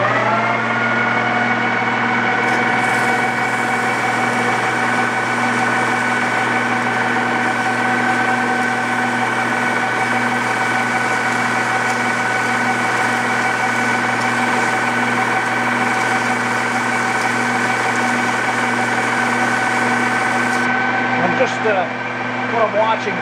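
A lathe spins a shaft's grease seal surface while grit paper sands it, a steady loud machine hum with sustained tonal whine running the whole time, with a voice talking over it.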